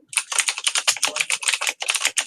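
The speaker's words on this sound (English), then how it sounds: "mechanical keyboard fucking kills my life" Fast, steady typing on a mechanical keyboard, its clicky keystrokes close and loud in quick irregular bursts with brief pauses and no voices.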